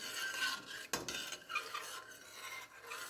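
A spoon stirs seasonings into a sausage stuffed pepper soup in a pot, making soft, quiet swishing with one sharp clink of metal against the side.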